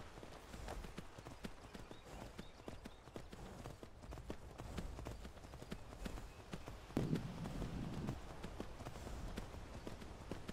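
Horse hooves clip-clop steadily while riding horseback in the fantasy game Skyrim VR, a continuous soft rhythmic patter of steps under ambient game sound, swelling slightly louder near the end.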